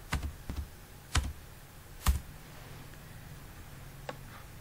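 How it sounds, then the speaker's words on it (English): A few scattered keystrokes tap on a computer keyboard at a desk, quiet and close, in short irregular clusters with pauses between. "To find PDB on web, type PDB in Google"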